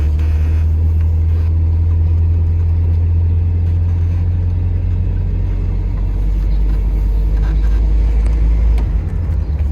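A 1974 MGB car idles and drives as it is shifted through its gears, a steady low engine rumble close to the microphone with little variation in pitch.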